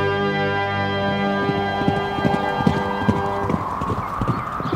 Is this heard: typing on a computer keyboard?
no